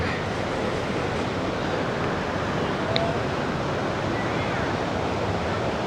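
A steady, dense roar of rushing water fills the scene evenly, loud and unbroken throughout, from Khone Phapheng Falls on the Mekong River in southern Laos, heard nearby.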